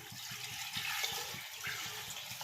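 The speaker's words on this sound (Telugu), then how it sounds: "నా దగ్గర ఇప్పుడు లేదు కాబట్టి వాటర్ వేస్తున్నానండి" Faint rushing splash of water poured steadily into a pot while making chicken biryani, a continuous gushing wash over soft music, with no talking.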